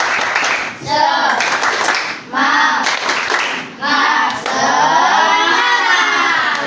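Group of children clapping together in a classroom in loud bursts mixed with voiced chanting and calls, several rounds separated by short pauses.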